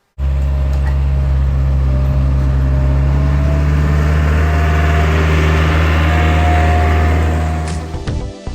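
A skid steer engine idles steadily and loudly nearby with a constant low droning hum that holds for about eight seconds before it roughens and tapers off near the end.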